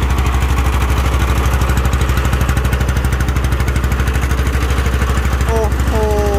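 A rot i-taen, a Thai farm vehicle carrying a mill in Phitsanulok, runs its single-cylinder engine close and loud. Its rapid, even chugging beat carries on steadily, with a brief squeak near the end.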